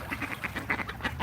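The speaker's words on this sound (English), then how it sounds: "There's some noisy ducks down here." Noisy ducks quack close by in a quick rhythmic series of about half a dozen nasal calls over a little more than a second.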